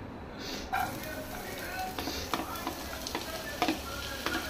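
Chopped onions frying in hot oil, with a steady broadband sizzle and occasional sharp spoon-and-pan clicks as they are stirred, close by.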